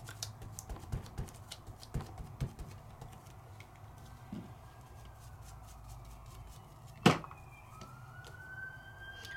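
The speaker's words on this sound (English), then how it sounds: "There's the sirens." Distant emergency vehicle sirens wail faintly outdoors, a thin rising tone behind closer clicks and taps from a craft table, with one sharp knock midway.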